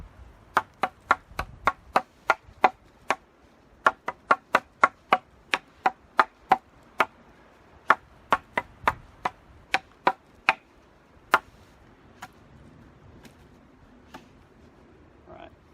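An Esee Laser Strike knife chops with about two dozen crisp, close strikes in an uneven rhythm, tapering off toward the end over a quiet background.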